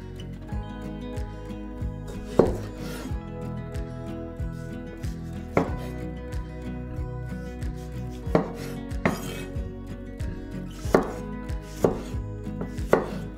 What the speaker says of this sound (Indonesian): Tomato hiris kasar.